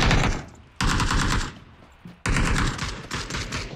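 Automatic weapon fire in the video game PUBG, loud and close, coming as two sustained bursts of rapid shots split by a short lull.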